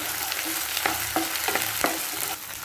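Onions and ginger-garlic paste sautéing in a pan, a close, dense sizzle broken by several sharp spatula scrapes, with no voices.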